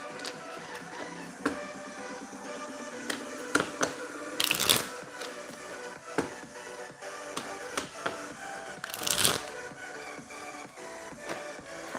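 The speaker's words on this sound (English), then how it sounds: "So let me just do a little shuffling and then we'll get to your free card pull." Giant Rider-Waite tarot cards are shuffled by hand, giving irregular close flutters, taps and slaps with two longer riffling bursts, and no one talking.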